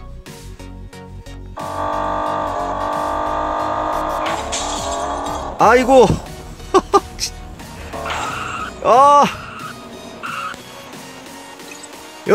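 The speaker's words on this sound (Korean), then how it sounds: "여러분 지금 유리창이 깨졌죠?" Video game car crash test: an engine drones, then a string of loud crunching impacts and breaking windshield glass comes in sharp bursts, with a man exclaiming briefly between them.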